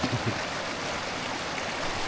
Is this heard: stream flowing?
yes